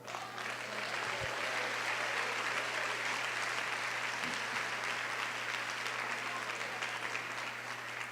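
Church congregation applauding, a dense sustained wash of clapping from many hands filling the room at even loudness throughout, with a steady low hum beneath.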